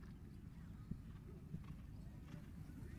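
Horse hooves clip-clop faintly at a show jumping event in an eventing nations cup, a few soft thuds under a continuous low murmur and commentary-like talk.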